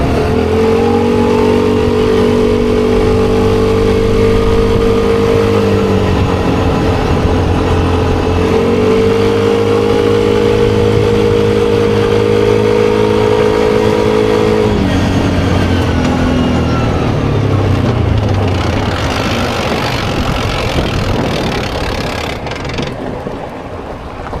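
A Bashan 300 ATV quad bike pulls a heavily loaded trailer of roughly 550 kg plus rider, its engine droning loud and steady with a pitch that shifts and dips, then the note rises and roughens near the end.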